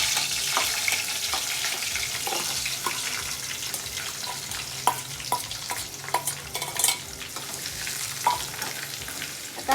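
Finely chopped onion fries in hot oil for chicken keema, a close sizzle with scraping stirs and clinks of a spoon against the pan, no talk over it.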